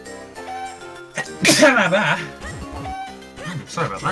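A single sharp sneeze bursts out close up in the middle, surrounded by soft game music and a faint voice.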